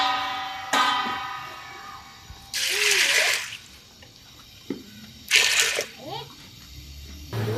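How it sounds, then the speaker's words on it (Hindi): Black chickpeas being washed in water in a kitchen: bursts of splashing and pouring alternate with drips and light clanks of a vessel, loud and close, with a few short quiet gaps between the sloshes. "सबसे पहले हम चने जो हैं ये वॉश करेंगे"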